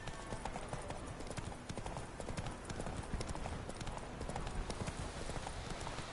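Rhythmic galloping hooves of the horse Roach in a video game, a fast steady clip-clop pounding throughout over a faint background.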